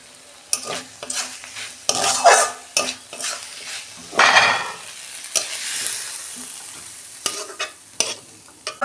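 A cooked prawn dish with banana stem is scraped and poured out of a pan: repeated close scraping and clattering strokes of a spatula against metal, irregular and fairly loud, with no voices.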